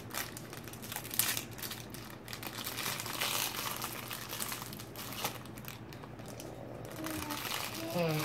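Paper and plastic crinkle and rustle steadily up close as a giveaway package is opened, with soft voices faintly underneath.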